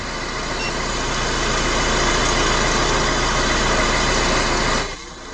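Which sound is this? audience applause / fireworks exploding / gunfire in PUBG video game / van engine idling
van engine idling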